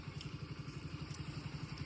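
A motorcycle engine idles steadily right after being started, a low, even, rapid putter that runs close and continuous without pause, set on a trip toward a desert temple in the Little Rann of Kutch.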